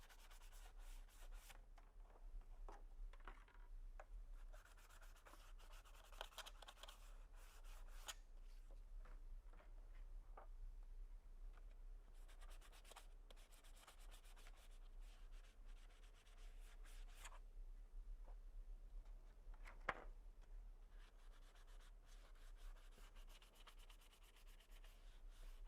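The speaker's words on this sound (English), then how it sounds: "Sand the inside." Sandpaper scrubs the inside of ABS plastic Stormtrooper armor parts, a continuous quiet rasping rub with uneven strokes that runs on without talk.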